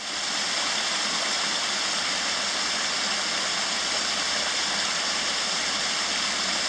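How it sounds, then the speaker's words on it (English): A small stream tumbling over rocks beside a Scottish loch, a loud, close, continuous rushing and splashing of water with no breaks, steady and full throughout. "I've enjoyed watching water tumbling over rocks like this."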